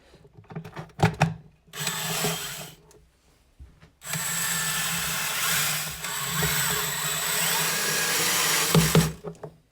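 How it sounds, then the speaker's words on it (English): A power drill drives screws around the rim of a chicken plucker unit during assembly, a few handling clicks and then two sustained whirring runs, one short and one long, each ending in a clunk, close up. "You're simply going to take your screws and now just go all the way around the unit."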